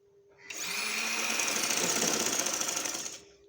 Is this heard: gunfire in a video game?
no